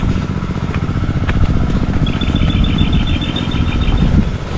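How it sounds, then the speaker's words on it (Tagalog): Two boat engines start up and run together, a steady loud rumbling chug with clattering, throughout and alone, with a faint high whine midway. "nakapagandar na tayo ng dalawang makina"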